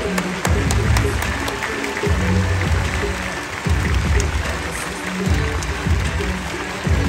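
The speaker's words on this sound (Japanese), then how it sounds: "両チームの伝統に大きな拍手を送ってください" Arena crowd applause after a B.League basketball game between Nagoya Diamond Dolphins and Shinshu Brave Warriors, a loud continuous wash of clapping with pulsing low rumbles from the venue sound system underneath.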